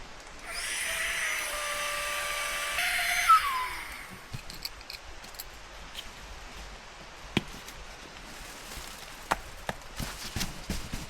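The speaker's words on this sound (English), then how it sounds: "I'll bring you guys back when it's pumped up because it's a bit of a noisy bugger." A tiny Flextail electric pump runs briefly at a woodland campsite, making a high, steady whine for about three seconds before cutting off, followed by faint scattered clicks and handling sounds.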